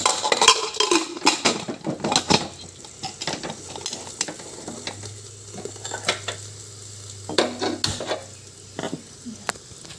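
A vegetable fry is stirred in a pan in a home kitchen, with repeated metal scrapes and clinks of the spatula over a steady low sizzle, close and without talk.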